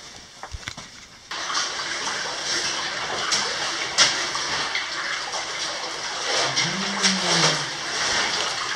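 Small stream flowing through a cave gallery near its resurgence, a steady rushing wash of water that fills the space continuously, with a few brief knocks at the start and a faint low hum later.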